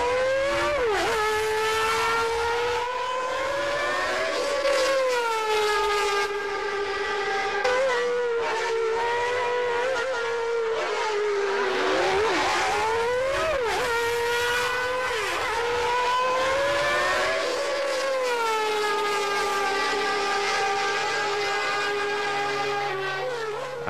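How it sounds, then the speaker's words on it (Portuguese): Ayrton Senna's McLaren Formula 1 car screaming around a track, its high-revving engine climbing and dropping through gears in long sustained wails, loud and close for the whole stretch with no talk. "O carro de Senna foi para a pista e nós gravamos o som do motor."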